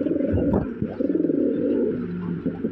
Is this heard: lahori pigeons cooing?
yes